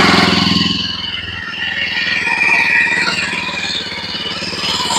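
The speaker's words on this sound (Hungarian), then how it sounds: "Tehát behúzod a kuplungot, üresbe van a motor, és akkor ezen indítani." A Jawa Perak 350 motorcycle engine turns over and settles into a rumbling idle, loud and close, with a clattering mechanical tone throughout.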